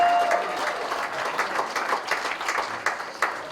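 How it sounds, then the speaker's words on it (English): Audience applause for Charlie Rangel fills a room, a dense wash of many hands clapping steadily at moderate loudness for a few seconds, with no voices over it. "Please give it a round of applause."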